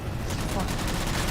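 Rapid automatic gunfire from Halo: The Master Chief Collection rattles continuously and loudly in a dense burst of fast repeated shots.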